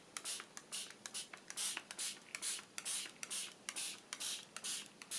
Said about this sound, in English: Just spray it and leave it for a moment.